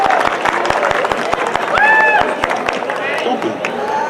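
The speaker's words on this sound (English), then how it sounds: "Give her a big round of applause." At an outdoor Black Joy celebration in Seaside, California, an audience claps in a thin, regular rhythm of distinct hand claps under ongoing talk, with a brief tonal sound near the middle.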